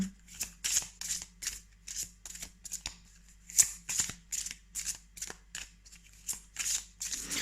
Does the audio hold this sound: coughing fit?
no